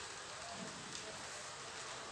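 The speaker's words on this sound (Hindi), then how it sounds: "फुल बारिश चालू है यहाँ पे।" Heavy midday rain pours down outdoors in a steady, dense, even hiss that does not let up, fairly soft in level.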